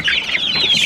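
Chickens clucking on a farm, a close and steady run of short bright calls overlapping without pause through the whole short stretch, with no talk over them.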